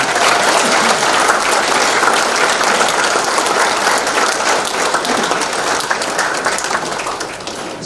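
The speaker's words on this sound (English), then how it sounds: "Would you please give everybody a big applause." An audience at an awards gathering claps loudly and continuously, a thick, even roar of applause that holds for the whole stretch.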